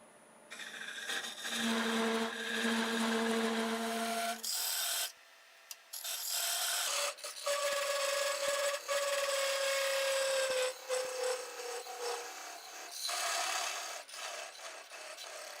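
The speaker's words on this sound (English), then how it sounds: "So let me get my parting tool." A thin parting tool bites into spinning wood on a lathe, giving close scraping, whining bursts that break off briefly and then resume with a higher, shifting tone.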